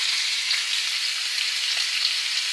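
Steak fries in a pan with a bright, steady hiss and crackle, close and even, with no voices over it.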